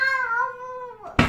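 A single drawn-out cat meow with a clear, sliding tone, close and fairly loud, ending in a short burst of noise.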